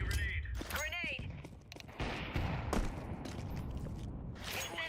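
A grenade detonates in Counter-Strike 2 matchmaking, a broad blast swelling into a rumbling roar amid scattered gunfire, with brief synthetic radio voice lines heard just before.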